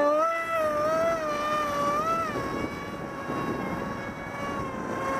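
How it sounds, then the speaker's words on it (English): Boxermads Alpha RC model jet flying on a windy day in Memphis, Tennessee: a continuous high turbine whine wavers slightly in pitch as the jet passes, fairly close and steady, with wind rumble underneath and no speech. "This jet is so fun."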